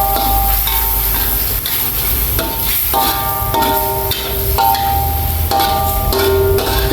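Water poured into a pan of tomatoes and spices cooking on the stove, giving a loud, steady sizzle and bubbling with a few sharp clinks of utensil against pan across the whole stretch.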